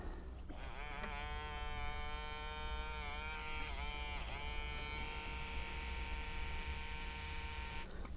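A small electric motor in a refurbished Mr. T toy robot buzzes steadily once voltage is applied, a close, thin whirring hum that wavers in pitch for several seconds before cutting off.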